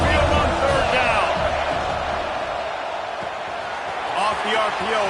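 Roaring football stadium crowd on third down at Saban Field, a loud sustained rumble of noise with whoops and cheers rising at the end, under continuous play-by-play talk.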